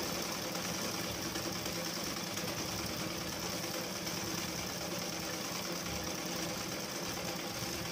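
A sewing machine double-stitches cloth for a new nighty, a steady fast mechanical whir and chatter running continuously throughout at moderate level with no talking.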